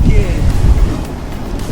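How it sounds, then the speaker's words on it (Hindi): A river raft cuts through the cold, rushing water of the Beas River near Manali, giving a loud, continuous splashing surf-like roar close by, with people talking over it. "जैसे ही राफ्ट पानी को चीरते हुए आगे बढ़ती है"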